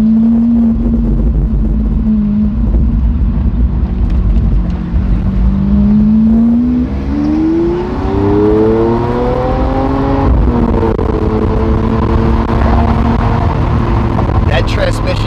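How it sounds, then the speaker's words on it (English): Lamborghini Aventador SV with a single-clutch transmission accelerating hard, its engine note climbing in pitch then dropping at a gear shift before rising again, loud and close, with people talking over the roar. "For a single clutch, I'm really surprised at how smooth this transmission shifts."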